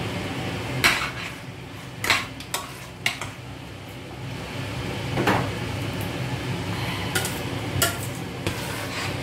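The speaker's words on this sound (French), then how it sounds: "Je vais touiller." Matembele (cassava leaves) being stirred in a pot, with repeated scraping and knocking of the spoon against the pot in irregular bursts over a steady background sizzle and no talk.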